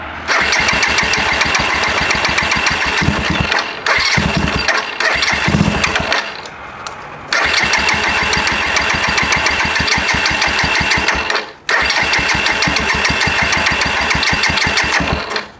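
A previously stolen Suzuki GZ250 motorcycle cranks and fires up, running loud and close with a rapid, uneven throb, stumbling and dipping twice before catching again, with no talk over it.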